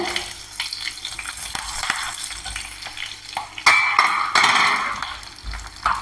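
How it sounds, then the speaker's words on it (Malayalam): Slit green chillies tossed into hot oil with spluttered mustard seeds fry with a bright, crackling sizzle and stirring scrapes, loud and close, with sharper bursts midway and no talk. "ഇത് ഈ എണ്ണയിലേക്ക് ഇട്ട് കേട്ടോ കടുക് പൊട്ടിയിട്ടുണ്ട്"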